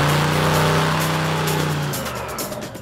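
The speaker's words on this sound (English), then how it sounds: "Fast Jack is still revving up engines." A drag racing car engine revs hard and loud, a deep buzzing roar holding steady before dropping away and fading slightly as it moves off.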